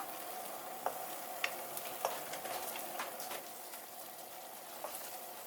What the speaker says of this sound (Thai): ผัดเครื่องแกงเขามันหอมค่ะ